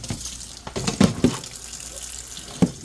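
Water runs steadily from a sink tap at a tie-dye station, with a few louder splashes and knocks breaking through the continuous close-up flow; no one speaks.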